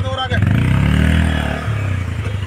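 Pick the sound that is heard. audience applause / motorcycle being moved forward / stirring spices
motorcycle being moved forward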